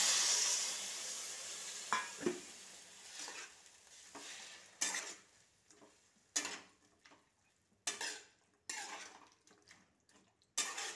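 Greens tipped into a pan of fried onion, frying with a soft sizzle while a spoon or spatula scrapes and stirs in repeated sharp strokes against the metal, close and clear with no talking.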